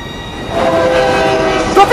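A train closes in with a loud, sustained horn inside the video game The Land of Pain, the rumble swelling after the first half second and holding steady, with a brief sharper blast near the end.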